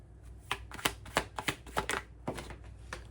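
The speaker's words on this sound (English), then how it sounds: "Let me just move these cards." Tarot cards shuffled and slid across a surface, a rapid series of crisp riffling slaps and swishes, close by with no voices, tapering off toward the end.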